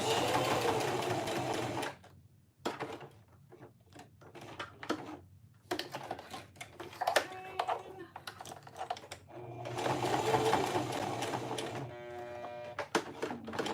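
A domestic sewing machine stitches along the edge of a cotton woven phone sling in several bursts of fast, rattling needle chatter separated by pauses and soft clicks, close and steady.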